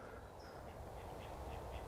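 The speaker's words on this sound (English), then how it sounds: "There's some ducks here now." Ducks quacking faintly in the background of a golf course, with repeated short calls over a steady outdoor rumble and no talking.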